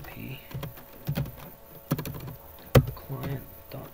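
Irregular clicks of someone typing code on a computer keyboard, a handful of close, light keystrokes with one sharper tap, under faint background murmur of a voice.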